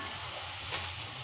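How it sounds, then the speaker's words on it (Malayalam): Bitter gourd slices deep-frying in hot oil give a steady, dense sizzle and hiss, close and continuous with no pause. "അപ്പോൾ കൈപ്പക്ക ഇങ്ങനെ എണ്ണയിൽ പൊരിച്ച് കോരുക."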